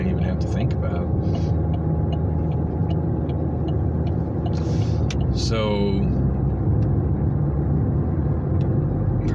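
Road traffic in Phoenix rumbles steadily from inside a moving car, a constant low drone with a passing vehicle sweeping by near the middle, while someone speaks briefly over it.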